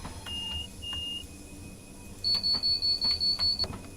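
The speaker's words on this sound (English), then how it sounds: "What is that random beeping at the doors?" Train door warning beeps sound in Train Simulator on the Portsmouth Direct Line. Two longer tones come first, then a fast, even run of about eight short, sharp high beeps, clear over a low cab hum.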